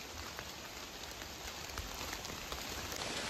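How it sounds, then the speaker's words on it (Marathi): Rain drips from trees onto leaves and ground as a downpour eases outdoors. It is a dense, steady, fairly faint patter of drops with no voices. "आता पाऊस थोडा कमी झालेलो आहे पण ठेमकल सगळी घालताय झाडांची."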